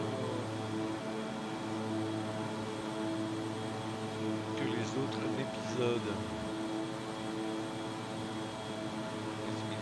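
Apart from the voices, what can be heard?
airplane in flight over the Andes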